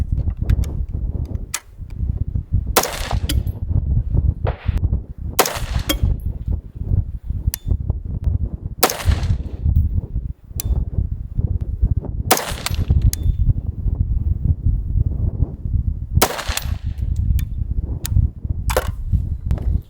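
AR15 rifle firing Sierra MatchKing 77-grain rounds at a 770-yard range, with about ten sharp, loud reports at irregular intervals over a constant low rumble of wind.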